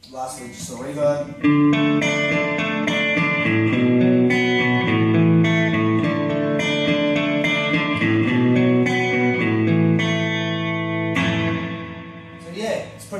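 Electric guitar played through a Crate GFX212 120-watt combo amplifier with its reverb effect turned all the way up, sustained chords ringing out with a washy tail, loud and continuous for most of the passage before fading.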